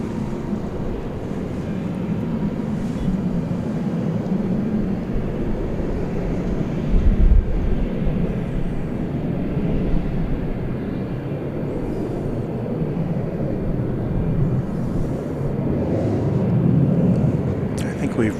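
American Airlines flight 1092, a jet departing DFW airport at night, rumbles at a distance as a steady low roar that swells slightly toward the end, with people talking faintly at times.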